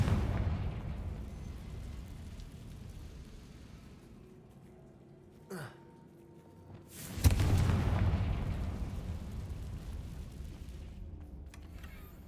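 Confringo fire spell explosions in the Hogwarts Legacy video game: a brief pop near the middle, then a loud booming blast that decays into a lingering rumble over steady game ambience.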